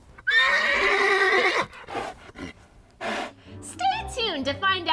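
A horse neighs loudly in a long, shaky whinny, followed by breathy snorts and gasps. Voices chatter briefly near the end.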